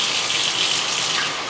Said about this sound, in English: Let me get the hot water going.